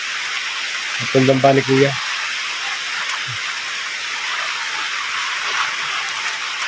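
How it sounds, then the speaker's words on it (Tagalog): Steady rain falling on a hut shelter, a continuous hiss filling the whole clip while someone speaks briefly near the start. "Inabot na kami ng ulan."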